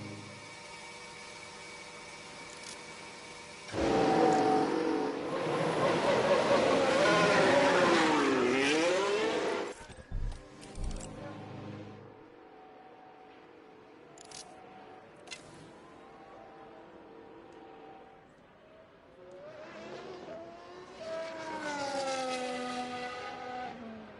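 Race cars lapping in the F1 Manager 23 video game, with a loud engine roar surging past for several seconds, then quieter distant engine drone and a later rising car passing, with little talk.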